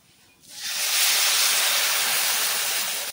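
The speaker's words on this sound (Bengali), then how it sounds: "এবার আমি দিয়ে দিচ্ছি জল" Water poured into a hot pan of frying semolina and vegetables bursts into a loud, steady sizzling hiss that holds for a few seconds and then cuts off.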